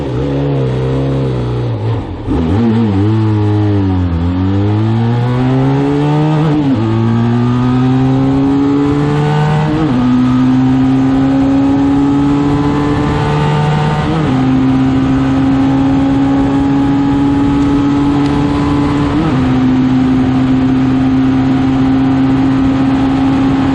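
A Benelli TRK 502 motorcycle engine idles and revs repeatedly, each rev rising in pitch then dropping back, steady and close with no talking.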